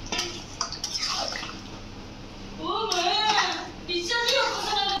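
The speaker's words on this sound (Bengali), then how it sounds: "জল দিয়ে দিলাম।" Water splashes and pours into a pan of simmering chicken curry on a gas stove, with clattering sounds and a voice speaking over the pouring.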